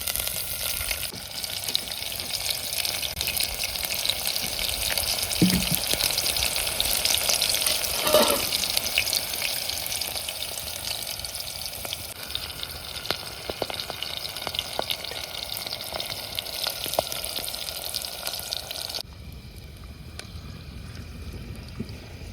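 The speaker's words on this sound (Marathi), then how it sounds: "आता तेल टाकून चांगलं असं हलवून घ्यायचे." Onions fry in oil on a traditional clay wood-fired stove, giving a constant bubbling sizzle with intermittent scraping strokes of a stirring spoon that runs close and fairly loud, then quietens near the end.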